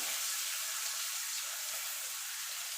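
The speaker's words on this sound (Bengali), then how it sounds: "ছোলাটা দিয়ে একটুখানি নাড়াচাড়া করে নেবো" Chickpeas sizzle as they fry in hot oil in a pan while being stirred, a steady, fairly faint hiss that carries on without a break.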